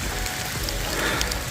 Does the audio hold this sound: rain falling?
yes